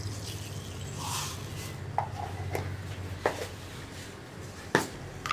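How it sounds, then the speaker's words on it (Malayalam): Mustard seeds spluttering in a hot pan while tempering a Kerala rasakalan (moru curry) for a sadya, heard as a few sharp, scattered pops over a steady low hum, with no talking. "ഇപ്പോൾ നമ്മുടെ കടുക് പൊട്ടി തുടങ്ങുന്നുണ്ട്."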